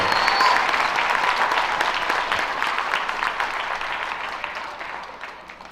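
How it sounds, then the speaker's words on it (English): A crowd at a youth fair livestock show applauds for all the children taking part. The clapping is dense and fairly loud, then gradually fades over the last seconds. "let's give them all a round of applause, not just the ones out here in the ring, but all the kids in the show"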